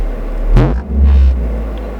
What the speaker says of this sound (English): Actually, I'll rev the engine